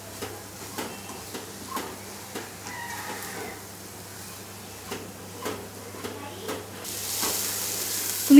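Red chilli powder and turmeric are stirred into onion paste frying in a pan, with a soft sizzle and regular light clinks and scrapes of the spoon, growing into a louder hiss near the end.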